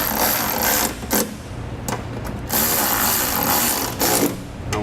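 A ratchet with a 13mm socket tightening nerf bar bracket bolts on a 2014 Ram 1500, giving quick bursts of clicking in several spells with short pauses between them, close and clear, with no talking.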